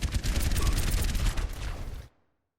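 Helix rockets fire in a first-person shooter video game: a quick, dense volley of blasts and impacts lasting about two seconds before cutting off to silence.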